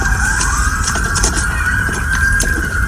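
Emergency sirens wail continuously at the scene of a twin-engine plane crash in a residential neighborhood, a steady rising and falling tone over a low rumble of engines, loud and sustained throughout.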